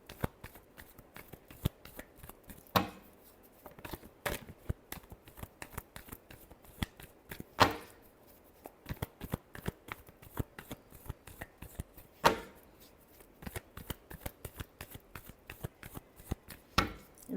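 Tarot cards being shuffled by hand, a long run of crisp, close riffling and slapping bursts in a quick, uneven rhythm, heard alone without talk.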